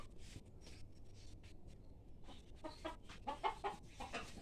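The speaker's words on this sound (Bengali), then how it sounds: "এই হলো আমার ফার্মের মুরগি।" Nine-month-old Fayoumi laying hens on a small farm cluck softly and intermittently nearby, quiet at first and then building into a few louder, closer clucks toward the end.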